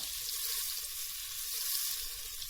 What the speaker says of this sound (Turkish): biraz eritiyoruz